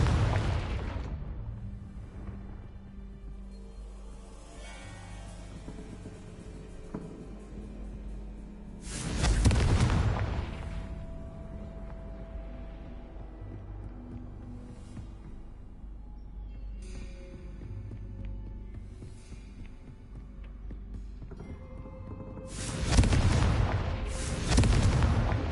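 Two heavy booming spell explosions from the Confringo fire curse in Hogwarts Legacy, spaced well apart over a low rumbling ambient game background.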